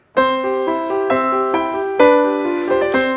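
Piano played by a 9-year-old child who has had lessons for a while, a steady series of sustained chords and melody notes with regular attacks, fairly loud and close, no talking.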